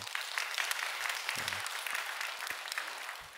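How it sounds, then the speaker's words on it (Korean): Members of a Korean church congregation applaud together during a dawn prayer service, a continuous, fairly loud patter of many hands that holds steady throughout, with a few low bumps underneath. "우리 1교구 위해서 여러분 박수 한번 해주셔요"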